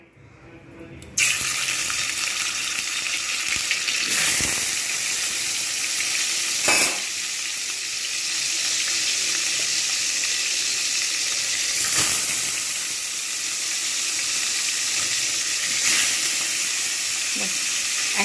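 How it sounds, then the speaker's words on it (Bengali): Pieces of bhetki fish fry in hot oil with a loud, steady, broadband sizzle that starts abruptly and runs continuously, with a few brief louder crackles and spatters. "এবারে আমি এর মধ্যে একটা একটা করে মাছগুলোকে ছেড়ে দেবো"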